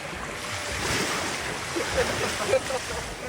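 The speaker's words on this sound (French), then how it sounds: "je pense que c'est le bruit des vagues qui lui fait peur." Steady roar of ocean surf washing in, with a slight swell toward the end and some wind buffeting the microphone.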